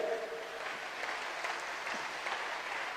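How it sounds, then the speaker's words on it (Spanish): A church congregation claps in a dense, continuous wash of applause that fills a large room, steady and moderately loud with no voices standing out. "si va a aplaudir, aplauda en serio, por favor"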